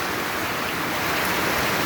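Floodwater rushing down past a house after very heavy rain, a steady broadband roar of running water, close and continuous with no talking.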